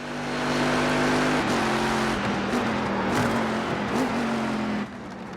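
An iRacing race car's engine roars steadily from a close chase-cam microphone, loud and intense, with its pitch dipping and rising through gear changes and throttle lifts before it drops off sharply near the end.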